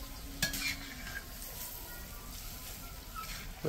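Palm fruit fritters fry in plenty of oil, giving a continuous soft sizzle with occasional stirring scrapes and a brief clink near the start, heard close up with no speech.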